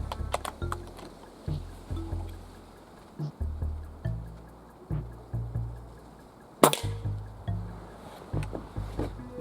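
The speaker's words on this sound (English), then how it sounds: "We'll switch this back over to white for the last 2 shots." Air rifle shots from a Benjamin Marauder striking cans, heard as a few sharp, close cracks spaced apart, one especially loud, over a low background hum and faint clicks.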